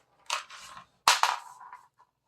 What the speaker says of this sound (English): This is going to be our third shot.